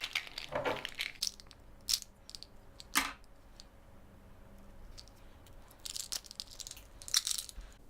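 Plastic wrapping torn off a pretty coffee pill tin, heard as several sharp crinkling, crunching bursts with quiet gaps between them, close and alone with no talking.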